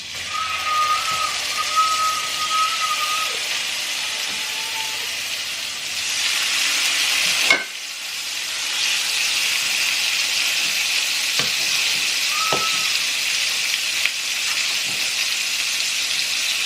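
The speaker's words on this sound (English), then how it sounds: "I'm gonna shallow fry" Fish shallow frying in a small amount of oil in a pan for Bengali fish curry: a loud, steady, close sizzling hiss throughout, with a brief clatter partway through.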